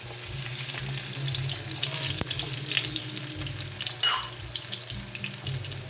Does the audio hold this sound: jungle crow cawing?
no